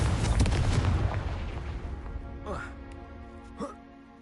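A Confringo fire-blast spell goes off in Hogwarts Legacy as a loud burst with a rumbling tail at the start, which fades out. Two short whooshing casts follow later, and a voice is heard along with them.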